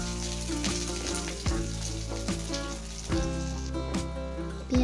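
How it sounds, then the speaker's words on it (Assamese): Onions frying in oil in a pan for Assamese aloo pitika: a continuous close sizzle with a faint tonal hum beneath and several sharp utensil knocks against the pan at irregular intervals. "এতিয়া ফ্ৰাই কৰিম পিঁয়াজ।"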